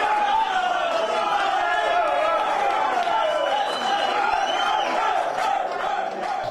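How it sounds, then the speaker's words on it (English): A poker tournament crowd of excited local Dominican spectators in Punta Cana erupting into loud, sustained cheers and shouts, a dense roar of many voices that stays steady throughout. "the crowd erupts as Jose Castillo is now going to double"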